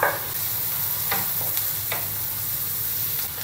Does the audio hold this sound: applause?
no